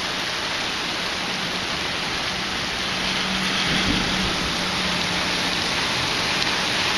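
Heavy rain pours down in a dense, steady roar, close and loud, with a faint low rumble partway through.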